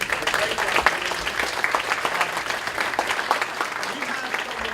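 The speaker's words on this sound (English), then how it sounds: "can you give him a round of applause?" Room applause for an absent colleague at a youth mental health gathering, steady dense clapping from a modest crowd with some murmured voices mixed in, lasting throughout.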